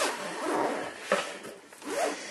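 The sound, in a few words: zipper on Thule messenger bag being opened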